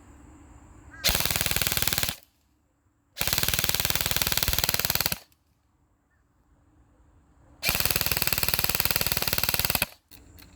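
A Krytac LVOA-C airsoft rifle on a 9.6V battery fires three loud, sustained full-auto bursts of about one to two seconds each, with quiet pauses between them and a short extra burst at the end.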